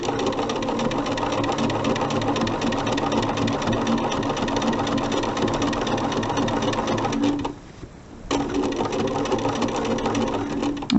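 A sewing machine stitches binding onto a mini quilt, whirring in a fast, steady rhythm close by, pausing briefly for about a second before running on again.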